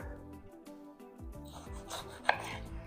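Knife chopping green pepper on a cutting board for spaghetti sauce, a run of quick, close, rhythmic cuts with a small clatter partway through.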